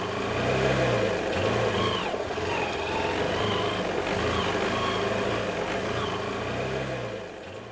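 A car engine runs steadily while driving at night, a close, even mid-pitched drone with a few rising revs, fading slightly at the end, with no speech.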